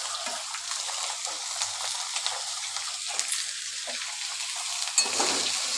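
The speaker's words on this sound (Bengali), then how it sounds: "এবার সব একসঙ্গে ভাজা ভাজা করব" Diced potato and bottle gourd fry together in a pan, giving a steady hiss of sizzling oil. Light scraping and stirring noises come in and out, with one louder clatter near the end.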